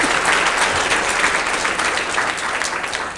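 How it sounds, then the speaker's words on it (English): Dense, steady applause from a large audience filling a room at the Girls Inc. of Long Island State of the Girl Breakfast 2018, loud and sustained throughout with no talking. "please applaud yourself for filling up this room"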